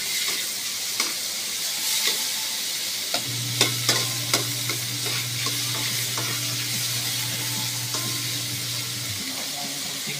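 Labahita fish is stirred into ginisang monggo in a pan, producing a continuous sizzle and hiss broken by sharp utensil clinks and scrapes. A low steady hum runs beneath the middle stretch.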